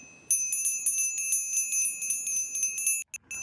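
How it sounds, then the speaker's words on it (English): A high, bright bell rung rapidly about fifteen times in a steady rhythm, then a brief pause and a couple more strikes, clear and alone, in a Unitarian Universalist congregation. "Sai, can you ring the bell?"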